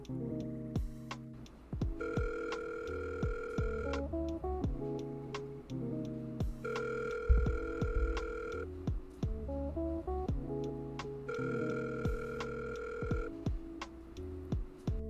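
A recorded phone call plays back with repeated bursts of electronic telephone tones, steady ringing or dial-style beeps arriving in three regular blocks over a low hum, with no voices.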